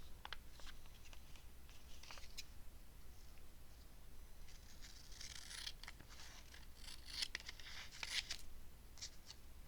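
Scissors snip and trim the bottom edge of a paper gluebook page during a Christmas crafting session, with soft, close cutting and rustling sounds that are faint against a steady room hiss.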